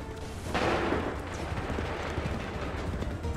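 Musket volley fire in Assassin's Creed III, a loud burst of massed gunshots that then rumbles on as dense, sustained battle noise.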